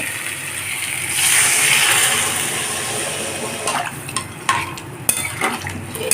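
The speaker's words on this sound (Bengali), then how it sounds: "এখন পটল আর আলুটাকে দিয়ে মশলার সাথে কষিয়ে নেব" Pointed gourd and potato pieces fry with spices in a pan, a close, hissing sizzle that swells early, then fades under a few sharp clinks and scrapes of a spoon.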